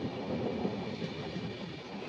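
Kolkata–Silghat Town Kaziranga Express, an empty passenger train pulling into Silghat Town station in northeast India, giving a steady close rumble of rolling wheels and carriages throughout, with no talk.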